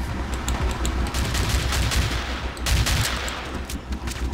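Shotgun fire in the Battlefield 2 video game: loud, sustained blasts of gunfire that overlap into a dense, continuous barrage throughout, with no voices.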